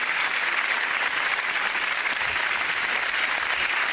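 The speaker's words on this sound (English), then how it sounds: "Give them all a round of applause" Steady, dense audience applause, a crowd clapping continuously at even loudness throughout.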